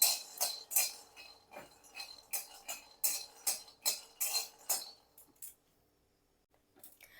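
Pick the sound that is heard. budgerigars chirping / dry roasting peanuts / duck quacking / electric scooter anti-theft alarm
dry roasting peanuts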